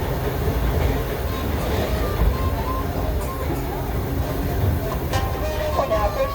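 A Disneyland Railroad 3 ft gauge train rumbles steadily along the rails, slowing into New Orleans Square Station, with low mechanical noise and faint metallic squeals, a voice murmuring faintly in the background.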